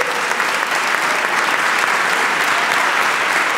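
Steady, loud applause from a studio audience in the Salón Juan de Dios Filiberto at Club Atlético Boca Juniors, La Bombonera, dense clapping filling the room without a break.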